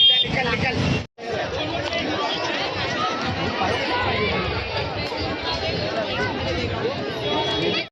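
Dense crowd chatter and overlapping voices at Wonder Park in Nerul on a busy Sunday, a steady close hubbub that drops out for a moment near the start and then continues unbroken.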